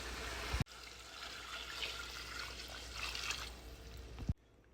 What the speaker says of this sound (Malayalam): നമുക്ക് ആവശ്യത്തിനുള്ള വെള്ളം ഒഴിച്ചു കൊടുക്കാം.